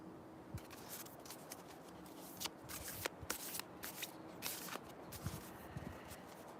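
A deck of tarot-style cards being shuffled by hand, a soft continuous riffling with sharper snaps and slaps of the cards, close and quiet, no talking.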